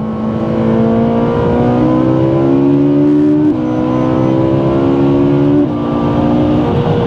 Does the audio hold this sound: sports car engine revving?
yes